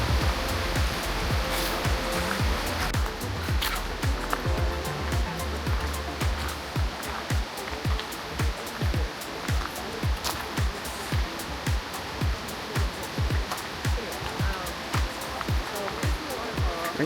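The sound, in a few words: waterfall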